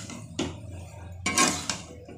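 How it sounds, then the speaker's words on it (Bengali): Tomatoes with turmeric, salt, chilli powder and coriander powder being stirred in a pan, giving two or three brief close scraping clatters of a spoon against the metal over a faint background. "এখন একটু ভালো করে নাড়াচাড়া করে নেব।"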